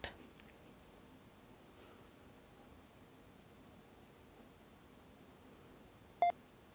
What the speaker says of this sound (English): and wait for that beep.